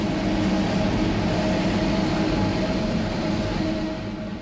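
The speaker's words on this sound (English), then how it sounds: "Free monorail skirts the perimeter of the main area." A crowded monorail train circling the main grounds of Expo '70 runs with a steady, continuous rumble and hum, holding level throughout before easing slightly at the end.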